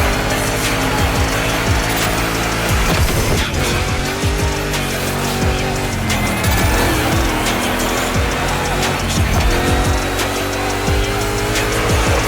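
Modified Mustang GT race car in The Crew Motorfest roaring loudly and continuously, engine revs rising and falling through gear shifts with repeated tire squeals and skids during a two-lap race, no talking.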